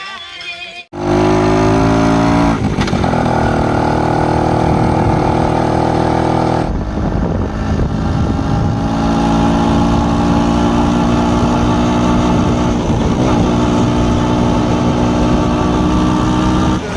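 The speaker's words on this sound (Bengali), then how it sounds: "সবার বাইকগুলো দেখো, আমাদের সুপার বাইকটা দেখো" Several motorcycles, including a super bike, idle by the roadside with a loud, steady, close engine drone that holds unbroken for the whole stretch, with only faint background voices.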